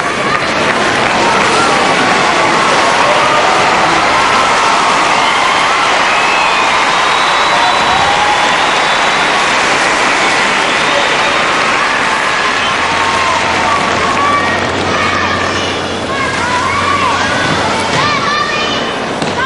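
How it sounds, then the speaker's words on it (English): Australian supporters calling and cheering from the stands at a women's gymnastics all-around final at the 2006 Commonwealth Games, a broad, steady roar of distant crowd noise filling the arena, with commentary voices over it. "You can hear the call from the crowd, the Australian supporters in the crowd."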